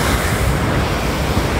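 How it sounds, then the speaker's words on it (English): Flowing water from pools and streams in the Lake District, a steady broadband rushing wash with a windy edge, constant and fairly loud throughout with no voices. "I can hear the noise of a water."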